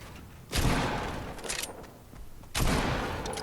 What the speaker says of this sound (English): There's someone on the left that's firing at me.